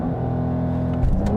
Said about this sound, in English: We'll use the launch control.